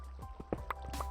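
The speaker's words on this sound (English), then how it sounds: "I hear water." Water dripping in a pitch-black cave in Minecraft, a handful of separate plinking drops spaced irregularly, quiet and close with no talk.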